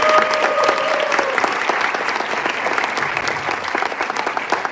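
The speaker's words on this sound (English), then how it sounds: "let's start with another round of applause for all of our finalists" Lively audience applause for student finalists at a 3 Minute Thesis competition, many hands clapping steadily and loudly, with a brief tonal ring in the first second before easing slightly toward the end.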